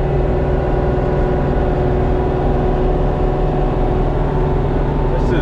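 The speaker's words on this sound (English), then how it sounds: "This is a good tractor." An LS MT2 series tractor engine drones steadily as it climbs uphill in low gear, a constant, close mid-pitched hum with no change in pace throughout.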